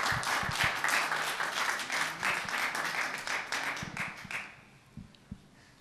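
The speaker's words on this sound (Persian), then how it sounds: "بسیار عالی تشویق کنید لطفا." A television talent show's studio audience applauds in a dense burst of clapping that thins out and fades to a few scattered claps near the end.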